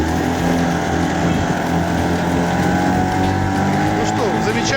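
A faulty boat motor drones steadily and loudly throughout, with a rough, uneven churning texture and no pauses.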